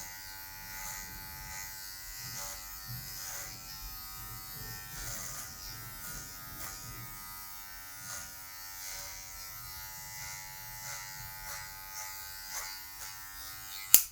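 An electric hair clipper buzzes steadily while cutting a mid fade into afro hair, holding a close, even hum with soft scraping strokes as it moves through the hair.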